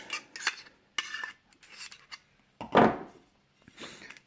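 The metal lid of a camping cook pot is handled and lifted, giving a series of light metallic clinks and scrapes with one louder clank in the middle, close and alone.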